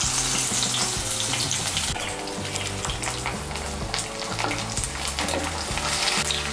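Jute leaf fritters hiss and crackle as they fry in hot oil, a steady close sizzle with busy bubbling running the whole time and no voices.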